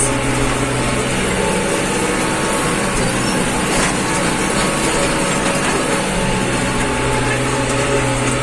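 A tractor engine runs fast and hard, pulling a heavy 24-disc harrow through a field as the seedbed is prepared. The drone is loud, steady and unbroken, with no speech over it.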